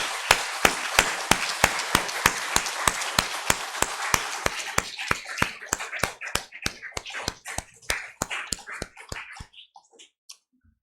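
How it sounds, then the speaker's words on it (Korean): A church congregation at a worship service claps together in encouragement, a steady unison beat of sharp claps about three per second that carries on for several seconds and then thins out and fades away. "우리 여전대를 위해서 격려의 박수를 하십시오."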